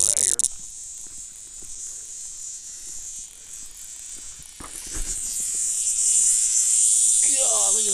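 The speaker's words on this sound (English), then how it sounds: "That hornet got that cicada and stung it." A cicada screams while a hornet stings it outdoors, a high, shrill insect buzz that holds steady and then swells louder toward the end.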